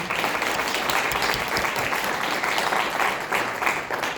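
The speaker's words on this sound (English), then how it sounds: "If we can just give them a round of applause for their time." Audience clapping at a Senate District 21 candidate forum hosted by the Ankeny Area Chamber of Commerce, a steady, even round of applause lasting throughout at close, full volume.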